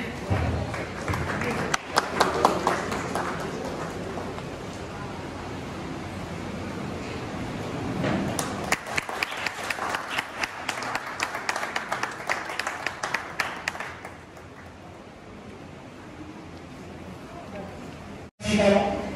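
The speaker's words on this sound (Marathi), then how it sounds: "जोरदार टाळ्या" An audience at a community bride-and-groom matchmaking gathering hosted by a youth association breaks into loud clapping that swells and fades in waves, with a voice over a PA system heard around the applause.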